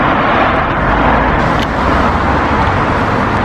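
Cars roll slowly around a closed Walmart parking lot on Christmas Day, a loud, steady rumble of engines and tires close by, with no talking.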